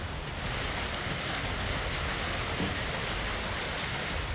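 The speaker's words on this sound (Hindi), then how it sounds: "मौसम ने करवट ली और अचानक ओलावृष्टि शुरू हो गई।" Hail pours down in a sudden hailstorm in Kashmir, a dense, even hiss of pelting ice on surfaces, steady and fairly quiet with no voices.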